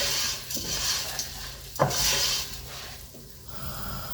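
Red lentils and split peas stirred in a pot with turmeric and onion, soft scraping and clinks of a spoon over a low sizzle, uneven and close.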